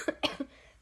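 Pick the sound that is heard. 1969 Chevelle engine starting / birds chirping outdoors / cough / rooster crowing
cough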